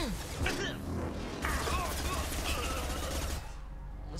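Rapid bursts of gunfire crack over a busy Mass Effect 2 game soundscape with mechanical clanks, the shots coming in quick clusters before things quiet down.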